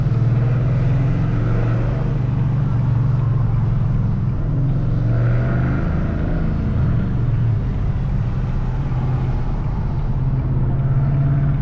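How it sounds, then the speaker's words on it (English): A loud, deep untuned Ford Mustang GT engine rumbles steadily throughout, a raspy roar that swells slightly mid-way and stays close. "Another loud Mustang."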